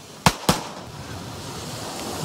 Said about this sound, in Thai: โอ้โหยิงคู่ ปังปัง